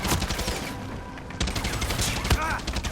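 Bursts of pistol fire in the Far Cry 6 video game during a helicopter fight, several sharp shots over a busy, dense game mix with other gunfire and effects.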